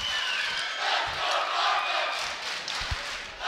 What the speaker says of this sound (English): Some Let's Go Dartmouth chants rolling in here as the score is 14-13.